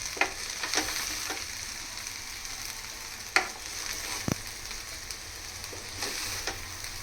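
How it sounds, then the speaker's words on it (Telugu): Chicken keema fried rice being stirred in a hot pan gives a steady close sizzle, broken by scattered scrapes and clinks of the spatula against the pan. "ఇప్పుడు రైస్ ముక్కలు అవ్వకుండా ఉండడానికి మనం ఇలా కలుపుకోవాలి"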